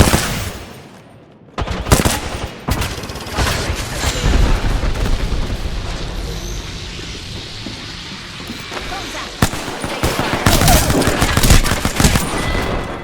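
Video game gunfire crackles in rapid bursts and sustained volleys, with heavy booming shots, under a man's brief spoken callouts.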